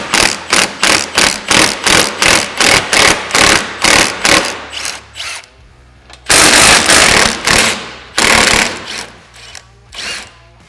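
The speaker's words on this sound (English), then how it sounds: "go ahead and remove the remaining factory upper bolt" A power tool, likely an impact wrench, loudly rattles out a factory upper bolt on a Polaris General XP 1 in a fast string of hammering bursts, then a short pause and two longer, heavier runs.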